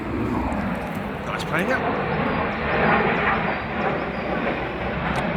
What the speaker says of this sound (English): There you go, bye-bye plane.